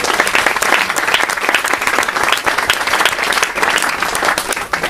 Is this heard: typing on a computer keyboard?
no